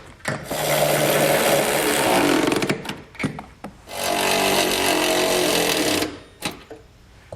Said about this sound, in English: We can now go back and tighten down all of our hardware.